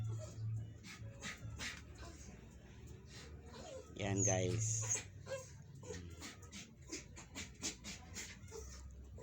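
A dog whimpers and gives a few high yips close by, with someone talking over and around its cries.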